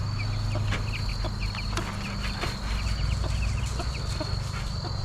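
A mother hen clucks in a barnyard with her chicks, a run of soft repeated clucks and peeps over a steady low hum, close by, with no talking.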